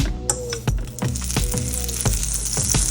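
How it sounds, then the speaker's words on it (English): Butter sizzles and fries in a hot oiled pan for ramen cooking, a steady close crackle with repeated sharp pops and taps throughout, no talking. "To start, I have a hot pan with some oil. I'm gonna add my butter."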